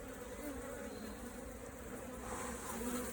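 Honey bees buzz steadily on a hive frame of newly emerging bees during queen rearing, a dense, continuous close-up drone that holds even throughout with no talking.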